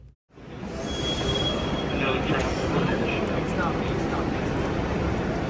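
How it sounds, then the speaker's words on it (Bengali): A tram train for the Disneyland theme park rolls along with a steady rumble, with a faint thin squeal of wheels and a voice talking over it. "এখানে একটা ট্রেন এসেছে যেটা আমাদের থিম পার্কে নিয়ে যাবে"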